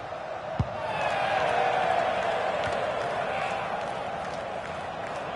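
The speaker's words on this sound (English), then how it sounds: "here comes the Mexican wave." Stadium crowd in a FIFA 19 football match swelling into a broad roar as a Mexican wave sweeps around, with a sharp thump near the start, then the noise slowly fading.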